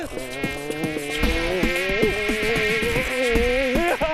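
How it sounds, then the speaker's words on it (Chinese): Loud, close insect buzzing drones continuously, its pitch wavering up and down like several flies circling nearby. "不是一只苍蝇， 而是一堆苍蝇围着你"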